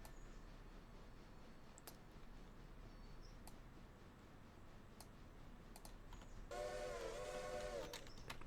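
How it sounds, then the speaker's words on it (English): In a railroad simulation game, a steam locomotive's whistle sounds once, a short, steady tone near the end above faint clicking of a keyboard and mouse. "Why do none of these whistles sound the same as they used to?"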